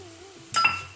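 Frozen green peas are tipped into a pot of cooking pulao, giving one short burst of clinks and rattles against the metal pot amid a quiet kitchen hum.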